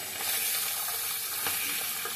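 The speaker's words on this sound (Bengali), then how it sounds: "মাছ ভাজাটা হয়ে গিয়েছে" Fish frying in hot oil gives a steady, close sizzling hiss that continues throughout with small crackling pops and no voices.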